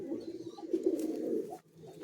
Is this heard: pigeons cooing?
yes